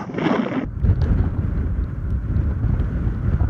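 Heavy wind buffets the microphone in a constant low roar while cycling near Kashgar, drowning out other sounds, after a brief higher hiss at the very start.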